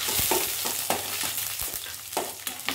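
Green chilies and curry leaves sizzle and crackle in hot oil, loud and close, with stirring scrapes and bursts of spattering popping through the steady fry.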